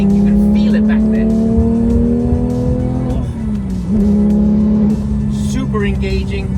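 A Porsche 911 GT3 with a manual gearbox and big engine revs hard and high, a loud sustained tone rising and dipping across shifts, close and continuous throughout.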